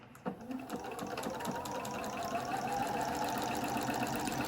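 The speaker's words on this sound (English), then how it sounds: "I'm going to stitch that together. Just a straight stitch all the way across." A sewing machine runs a straight stitch across a folded seam on a scrub cap, producing a steady, close mechanical hum with fine rhythmic needle ticking, continuous from start to finish.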